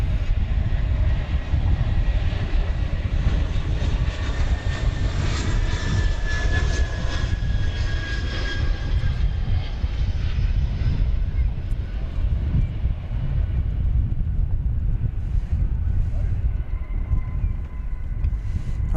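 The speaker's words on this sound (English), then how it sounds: "flight 2542 from San Diego, California, in Airbus A321" An Airbus A321 airliner on flight from San Diego roars at DFW Airport, a loud, steady, broadband engine rumble sustained throughout, with a faint whine fading toward the end.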